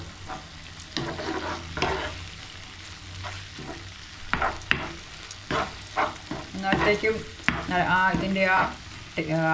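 Egg masala sizzles and fries in a pan while a spoon stirs and scrapes through it in uneven bursts, close and fairly quiet, with a steady crackle underneath.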